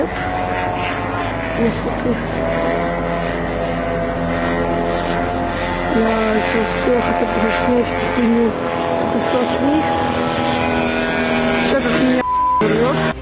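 An attack drone flies over Moscow at night with a steady, loud engine drone and propeller whine that holds for the whole stretch, while someone speaks over it and background voices come and go.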